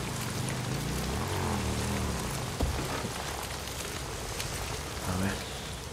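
Rain falling in the video game Days Gone, a constant hiss of drops on surfaces with a low motor drone underneath and a sharp knock midway; faint voice-like sounds come and go.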